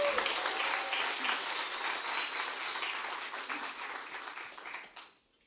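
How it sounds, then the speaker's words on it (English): An audience breaks into sustained applause at a civic community event, dense clapping holding steady and loud before tapering off and stopping abruptly near the end. "Round of applause for Memo."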